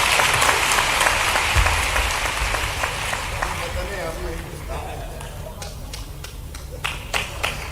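Audience at a public event for Ladli Laxmi Scheme girls in Madhya Pradesh breaks into applause, dense clapping that gradually thins into scattered, sharper individual claps, with crowd murmur underneath.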